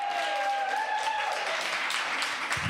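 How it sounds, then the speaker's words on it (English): An audience applauds the poet Jaspreet Mander at a poetry reading, a continuous dense wash of clapping with a thin whistle-like tone drifting over it early on. "big round of applause for Jaspreet"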